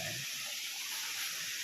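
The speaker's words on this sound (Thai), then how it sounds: "มีลำธารด้วยครับ น้ำจากภูเขา" Steady broadband rushing of a mountain stream flowing past a small check dam along a forest hiking trail at Phu Hin Rong Kla, continuous and fairly even, with no voices.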